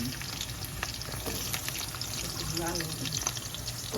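Garlic sizzles and crackles in hot oil in a home kitchen, a soft steady frying hiss with small pops, while a voice talks over it.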